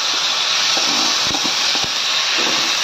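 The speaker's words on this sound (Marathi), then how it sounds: "थोडासा लालसर भाजून घ्यायचा आहे तुपात थोडासा" Sago (sabudana) fries in ghee with a loud, steady sizzling hiss throughout, and a few faint low thumps and clicks from stirring come through partway.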